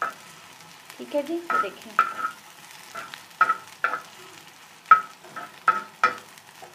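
Food frying and being stirred in a pan, cooked only until slightly pink rather than browned, with repeated sharp scraping strokes over a low sizzle; someone speaks briefly near the start.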